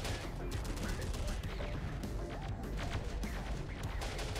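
Plasma assault rifle fire in a Terminator Dark Fate Defiance battle against a cartel among small buildings, a dense, continuous clatter of rapid shots and crashes filling the whole stretch at a steady, moderately loud level.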